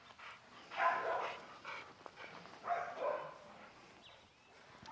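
Dogs bark in several short bursts near a pitbull during close-control training, moderately distant, with a low background murmur.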